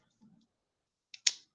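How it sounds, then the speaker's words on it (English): A pen being flicked gives a couple of sharp, close clicks, quick and isolated, after a soft faint rustle. "I'm sitting here flicking my pen."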